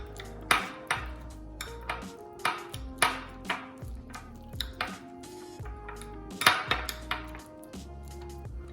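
Half an avocado mashed for guacamole in a bowl, a series of repeated utensil clinks and knocks against the dish at an uneven rhythm, close and clear with no voices.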